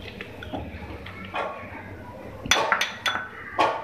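Chicken and potato pieces go into a bowl for cutlets, giving a few clinks and knocks of utensils against dishware, with sharper impacts clustered toward the end over quiet background.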